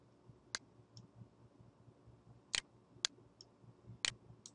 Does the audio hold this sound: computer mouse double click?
yes